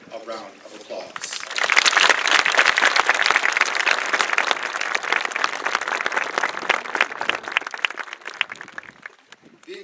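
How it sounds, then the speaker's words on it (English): Crowd applause at an outdoor high school graduation ceremony on a memorial field rises into a dense, sustained round of clapping after brief speech, then thins out near the end. "Let us give them a round of applause."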